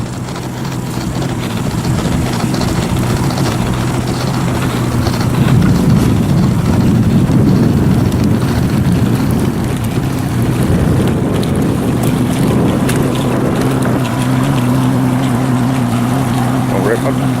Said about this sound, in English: Take the boat for a spin.